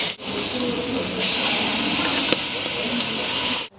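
Squid sizzling on a very hot grill, a loud steady hiss that jumps up sharply partway through and holds close and continuous until it stops.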